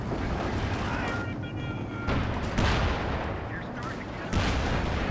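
Gunfire and heavy booms in Company of Heroes 2 during a 1v1 tank battle with Shermans, anti-tank guns and a Panther, continuous loud rumbling shots and blasts with a commentator talking over them.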